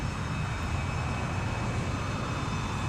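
A Tupolev Tu-16 Badger jet bomber in Flight Simulator X gives a steady, dense engine roar with a faint whine on top, constant and unbroken with no talking.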